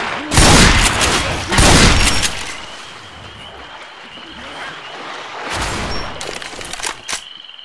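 Gunfire from the video game Left 4 Dead 2: loud, close bursts of rapid shots in two clusters near the start and again later, with quieter stretches of game ambience in between.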